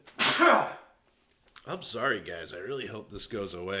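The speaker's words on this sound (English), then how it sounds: "Sneeze again." A person sneezes once, loud and close, followed by a short pause and then a person talking.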